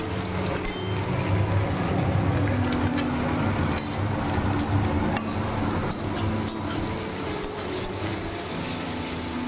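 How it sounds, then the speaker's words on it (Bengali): Two eggs being fried and scrambled in a pan for Maggi noodles, a steady close sizzle with faint scraping and stirring, and no talking. "ম্যাগিটার জন্যে 2টো ডিম আমি একটু ঝুরি করে ভেজে নিলাম।"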